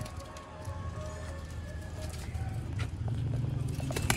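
Sialkoti Sheikh pigeons, a single pure breed, coo softly at a distance amid a steady murmur of background noise, with no voices nearby.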